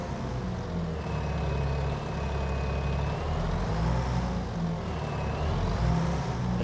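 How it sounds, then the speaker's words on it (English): A tractor engine in Farming Simulator 25 drones steadily at a low pitch with a faint whine rising and falling above it, continuous and close with no voices. "Well, this has been a great tractor."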